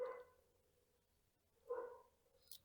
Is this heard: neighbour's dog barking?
yes